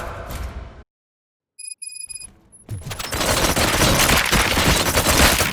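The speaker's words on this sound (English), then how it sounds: "Gunshots? What's going on?" A loud burst of rapid gunfire erupts after a short silence and electronic beeps, continuing as a dense, sustained barrage of shots in the video game Robocop: Rogue City.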